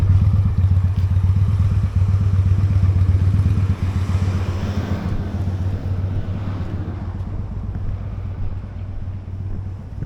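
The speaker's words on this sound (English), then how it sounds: "So, I have a motorbike." Steady motorcycle engine drone while riding through Murchison Falls National Park in Uganda, loud and close with continuous wind buffeting over the microphone and no speech.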